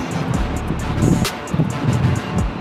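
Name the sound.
wind outdoors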